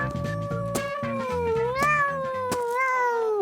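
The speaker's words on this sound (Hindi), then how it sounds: "लगता है हमारे कमरे में बिल्ली आई है। पता नहीं कहां से उसकी आवाज आ रही है।" A cat meows several times in a rising and falling wail, loud and nearby, over a busy background with music-like tones and a few sharp knocks.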